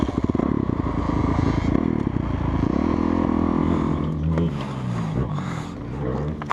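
A heavy motorcycle on a muddy motocross track, engine loud and close with a rough idle that rises into revving pulses, a voice heard now and then over it.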